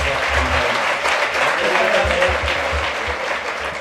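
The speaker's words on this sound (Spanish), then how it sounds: "les vamos a regalar un nuevo aplauso" An audience applauds after a show-cooking demonstration by chefs in Madrid, a dense burst of clapping from a crowd, loud and sustained, with a voice speaking over it.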